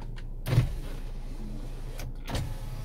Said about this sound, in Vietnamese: Kính ghiếc lên xuống.